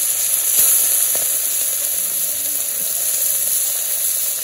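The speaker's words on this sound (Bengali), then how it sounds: "মাছগুলা দিয়ে দেই, তেল গরম হয়ে গেছে।" Hilsa fish pieces frying in hot oil, a steady bright sizzle and hiss running evenly throughout, with faint clinks and stirring sounds underneath.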